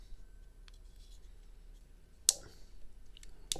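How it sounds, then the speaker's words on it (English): Small scissors on a black oxide Leatherman Wave+ multitool are opened, giving a quiet sharp metallic click midway and another at the end, with faint handling taps over a low background hiss. "small scissors, but they seem to be very sharp."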